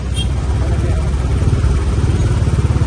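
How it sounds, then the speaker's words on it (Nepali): A Royal Enfield Bullet motorcycle's engine thumps with a steady, low, rhythmic beat close by, loud and continuous throughout. "बुलेट हल्लाउँदै मात्रै"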